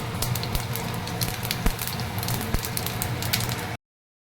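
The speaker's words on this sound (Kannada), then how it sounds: "ಎಣ್ಣೆ ಕಾದ್ಮೇಲೆ ಇದಕ್ಕೆ ನಾನು ಸಾಸಿವೆ ಹಾಕ್ತಾಯಿದ್ದೀನಿ. 1 ಕಾಲು ಚಮಚ ಸಾಸಿವೆ, 1 ಕಾಲು ಚಮಚ ಜೀರಿಗೆ." Mustard seeds and cumin sputter and crackle in hot oil, giving a dense, steady sizzle of close popping with a few sharper cracks standing out, alone and without talk.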